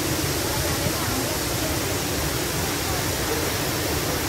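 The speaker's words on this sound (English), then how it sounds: "beautiful fountain" Water splashing steadily in a public fountain at the Plaça d'Espanya, a loud, continuous, even wash of spray with no breaks.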